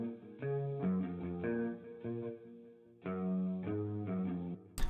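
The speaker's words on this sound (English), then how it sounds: "So for the bass guitar, I added guitar rig, some delay, a bit of chorus, and I cut a lot of lows out of it" Bass guitar run through Guitar Rig with delay and chorus and most of the lows cut, playing a slow, repeating melodic line of sustained, shimmering notes in a hip-hop beat, with no voices.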